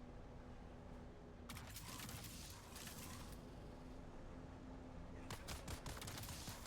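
Sniper rifle shots in the video game Dune Awakening come as sharp bursts of gunfire, one cluster and then another a few seconds later, over a constant background hum with no talking.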